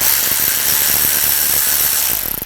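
A hand ratchet fitted with a T20 socket turning out screws from an Audi A4 side panel, rapid close clicking of the pawl in a continuous run that trails off at the end.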